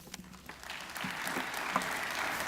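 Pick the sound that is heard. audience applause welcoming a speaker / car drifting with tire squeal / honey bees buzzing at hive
audience applause welcoming a speaker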